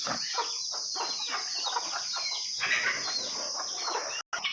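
Soft hen clucking and scattered chicken calls on a farm over a steady high hiss of background noise, with a brief dropout near the end.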